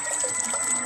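A homemade underwater thruster runs in a bucket of water, churning up a continuous close swirl and gurgle of agitated water, with a thin steady high whine from the motor above it.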